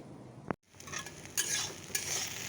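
Okra (bhindi) frying in a pan, with a metallic clink, a brief gap, then a steady sizzle broken by stirring scrapes and utensil knocks, close and alone.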